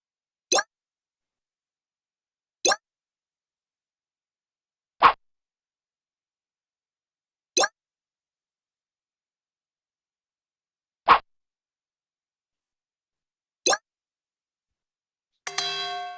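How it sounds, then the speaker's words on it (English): Short chime-like check tones from a chess game built in C# Windows Forms, sounding six times at irregular intervals of a few seconds, each a crisp clean ping, with a brief buzzier tone at the very end. "That is a check sound."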